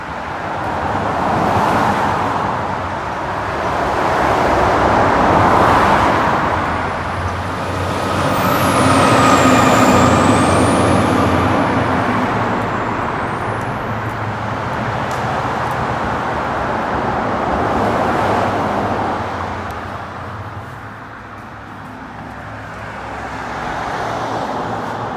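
Road vehicles pass near a Norfolk Southern railway trestle and bridge, swelling and fading engine and tyre noise, with a truck or bus and a brief air-brake hiss, loud and close, no talking.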